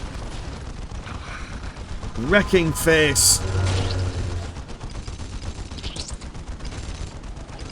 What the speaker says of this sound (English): It is the Baneblade, equipped to the teeth with a Hellfire, or sorry, a Hellhammer cannon. Watch that gun roar.